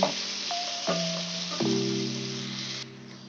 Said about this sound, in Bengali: আলুগুলো ভাজা ভাজা হচ্ছে